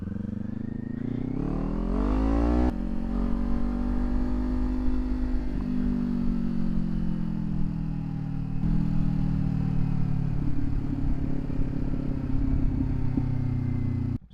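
Kawasaki Ninja 500 fitted with a LeoVince GP Corsa EVO slip-on exhaust revs up sharply, then settles into a throaty, rumbling run with shifting engine pitch and a second rise, close and loud, with no talking.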